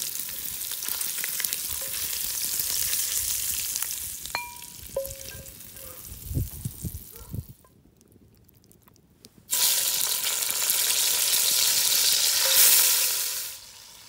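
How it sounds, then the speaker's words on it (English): Impala meat browns in a potjie pot over a wood fire, giving a steady sizzle and fry with stirring clinks, a brief quieter gap, then the sizzling returns strongly. "Once your bacon is cooked, you can remove it and then we will start to brown the meat."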